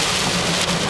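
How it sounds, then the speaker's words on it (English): Heavy rain falls steadily, a dense continuous hiss that holds at an even loudness with no voices. "would you look at this rain"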